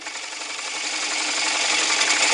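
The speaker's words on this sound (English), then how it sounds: "I'm going to start off with my 5/8 inch bowl gouge" Wood bowl spinning on a lathe near 700 rpm while a 5/8 inch bowl gouge cuts it, giving a steady, loud, dense scraping hiss that builds slightly and runs without pause.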